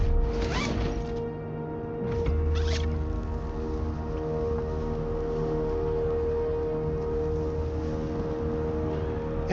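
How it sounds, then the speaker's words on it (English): A zip line ride in the Borderlands video game, heard as a few quick whooshing zips at the start that settle into a steady whirring hum running under background game sound. "Another nice thing about silos is you can zip line up and take off."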